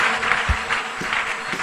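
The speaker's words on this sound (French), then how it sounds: "applaudissez très fort le Seigneur." A church congregation applauds loudly during the offering, a dense continuous wash of clapping with a few low thumps underneath.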